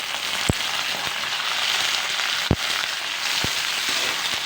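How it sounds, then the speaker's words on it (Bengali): Potatoes frying in a pan of oil for a broccoli and pea curry, a dense continuous hiss with a few sharp pops and crackles breaking through, close and loud with no talking. "এবার আমি দিয়ে দেবো আলুগুলি আলুগুলোকে ভালো করে ভেজে নিতে হবে"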